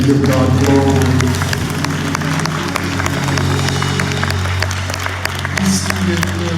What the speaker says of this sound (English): Clap those hands, everybody, and give God glory.